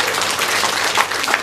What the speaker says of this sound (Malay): Tepukan gemuruh kepada semua.